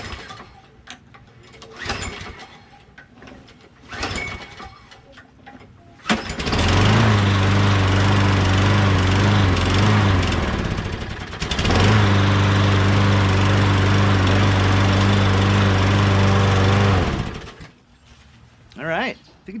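A Poulan XT PXT12538 lawn tractor with a 12.5HP Briggs SOHV auto-choke engine, low on gas, cranks with brief bursts, catches and runs loudly for several seconds, stalls, then restarts and runs again before cutting out.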